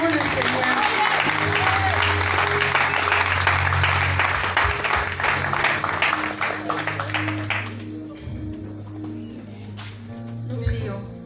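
A church congregation claps and applauds in a sustained wash, with voices and a steady low hum underneath, fading out partway before a brief swell near the end.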